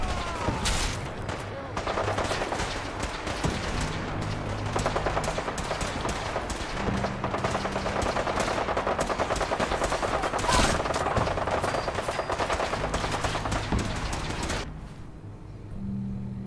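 Sustained rapid gunfire in the video game Fallout 4, loud machine-gun bursts almost without a break for about fifteen seconds, with game voices and other combat noise underneath.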